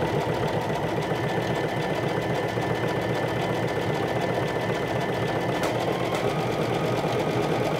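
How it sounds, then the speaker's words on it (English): A home sewing machine runs steadily on a lightning bolt stretch stitch, sewing a seam with a 3/8 inch allowance for a Sinclair Lotte garment, a continuous close mechanical hum and rapid needle clatter with no talking. "3/8 of an inch seam allowance with a lightning bolt stitch so it has stretch to it. And I'm going to stitch just this part in between"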